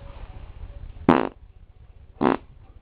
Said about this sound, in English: He doesn't like fart noises.